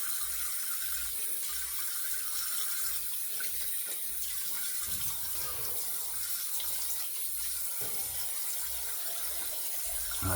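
Tap water running steadily into a sink while a safety razor is rinsed during a wet shave, a constant close hiss and splash with a few soft clinks and no talking.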